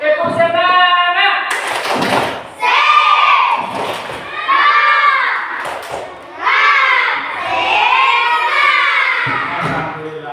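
Classroom children chanting the Indonesian tepuk semangat clapping cheer together, loud group voices in rhythmic bursts with claps and taps mixed in, filling the room at close range.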